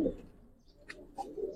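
Giribaz silver pigeons give a few soft, short coos against quiet background rustling, faint and close by.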